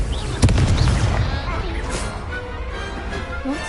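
A fiery Confringo spell explosion in Hogwarts Legacy bursts with a deep boom that rumbles and fades over a few seconds, with game sounds mixed in.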